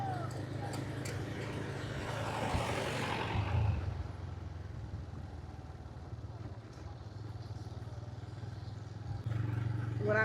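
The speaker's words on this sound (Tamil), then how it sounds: "இப்போ நாங்கள் 2 பேரும் தான் பைக்கில் போய் கொண்டிருக்கிறோம்." A motorcycle carrying two riders rumbles steadily along a dirt road in Jaffna, with rattling and wind noise; the engine swells briefly early on, then settles into a constant drone.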